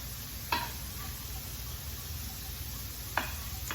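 Shrimp cooking in a hot skillet give a steady, quiet sizzle throughout, with two brief sharp clicks or taps of a utensil against the pan standing out; no one speaks.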